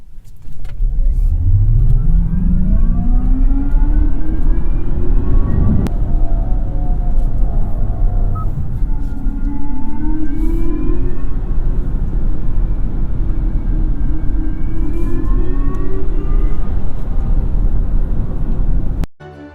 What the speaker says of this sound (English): Provides a new futuristic electronic sound for electric vehicles.